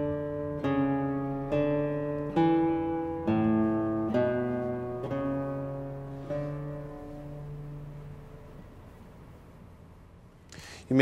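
Classical guitar plays the tenor voice of a Bach fugue, a single melodic line of about eight plucked notes in a steady, measured rhythm, each ringing and fading, recorded close and quietly, ending with a soft rustle.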